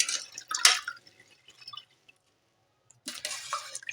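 Water dripping and splashing from freshly washed jute leaves, with close bursts of wet drips at the start, a quiet pause, then another spatter of dripping near the end.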